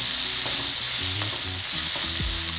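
Sliced onions with a pinch of salt sauté in a pan for an ivy gourd onion-chilli fry, giving a loud, close, steady hiss of frying with light stirring scrapes and taps beneath it, and no voices.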